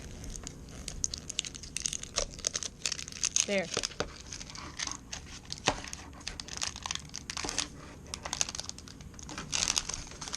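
Paper packaging on a Mini Hatchimal toy is torn and crinkled in repeated short rips and rustles, close up, while a person talks briefly over the handling noise.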